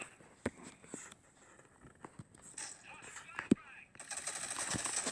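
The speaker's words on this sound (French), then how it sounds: "Vous voyez un peu le son de l'arme." Weapon fire in the mobile shooter Critical Ops: scattered single sharp shots pop at irregular intervals over faint game ambience, with someone talking underneath.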